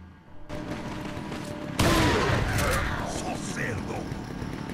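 Rifle fire in Resident Evil 4 erupts as a sudden loud burst of dense, crackling gunfire, then keeps rumbling over steady game noise for several seconds.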